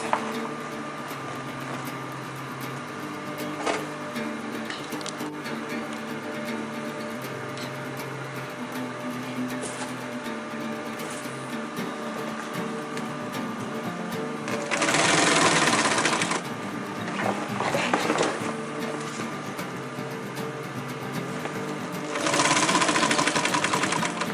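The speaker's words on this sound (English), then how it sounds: "We're going to sew until we get to the middle point that we have marked." A sewing machine stitches a 50L rollup backpack, its motor humming evenly and close by, with louder bursts of faster stitching near the middle and again near the end.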